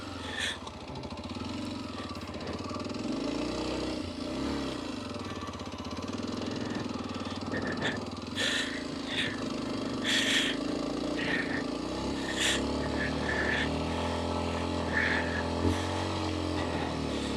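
Kawasaki KLX230 motorcycle engine running steadily while riding through shallow snow high in the Eddys, a continuous close drone with small throttle swells and scattered clicks and crunches on top.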